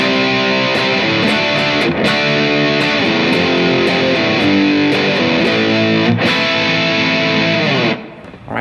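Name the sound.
distorted electric guitar playing chorus of a song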